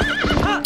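A horse in Zelda: Twilight Princess HD, in Ordon Village, neighs in a loud, close whinny with rhythmic hoof clops as it speeds into a gallop.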